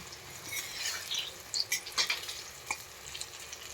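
Gooseberries frying in coconut oil for pickle, a quiet close sizzle with scattered sharp pops and crackles clustered in the middle, no speech.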